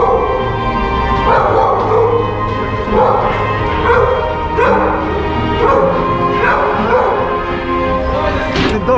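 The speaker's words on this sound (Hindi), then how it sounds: "The dog is singing." A dog in a Moscow underpass howls and whines along with a street musician's playing, its rising yelps repeating every second or so over the steady music, close and loud.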